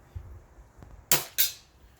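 Two sharp cracks from a Crosman lever action BB gun, spaced about a quarter second apart, close and loud against a quiet background, with faint handling noise earlier.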